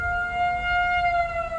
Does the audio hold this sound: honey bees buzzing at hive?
no